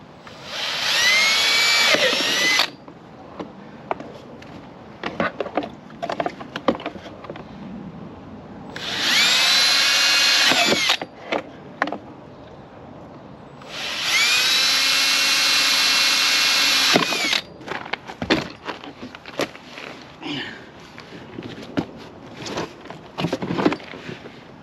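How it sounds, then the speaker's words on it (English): A power drill runs in three long bursts with pauses between, plus scattered knocks and handling clatter, close up and without speech, while drilling holes during a window regulator install on a Tesla Model 3. "So I'll get those drilled out real quick."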